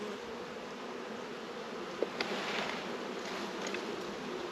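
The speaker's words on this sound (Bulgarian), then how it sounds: "Сега ще изтръскам пчеличките." Honeybees buzzing as they are shaken from a hive frame during a hygienic behaviour test, a dense steady swarm hum close and continuous, with a couple of brief knocks midway.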